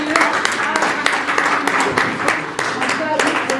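Several people clap in quick, irregular bursts for a Congolese singer, while a voice talks over the applause.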